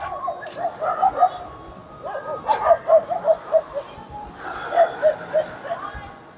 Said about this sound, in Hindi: कुत्तों की आवाज़ें फ़िलहाल बहुत ध्यान भटका रही है।